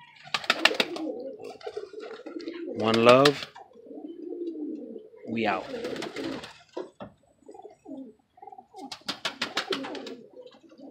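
Pigeons cooing close by in repeated soft throaty calls, mixed with rustling and clattering, while someone talks intermittently over them.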